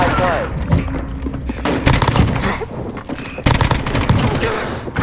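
Rapid bursts of automatic gunfire and single shots crack through a Modern Warfare multiplayer team deathmatch, loud and dense, with in-game announcer and player voices talking over the shooting.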